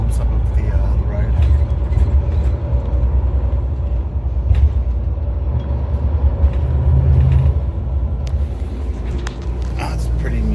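Inside an Exo route 40 bus near Vaudreuil, a loud, steady engine and road rumble fills the cabin, with occasional clicks and a brief air hiss, and a voice speaks now and then.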